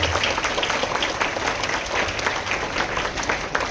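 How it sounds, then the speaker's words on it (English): Audience at a school investiture ceremony giving a round of applause, dense, even clapping from many hands sustained throughout, with no speech over it. "Let us give a round of applause and appreciate all the students along with our partners."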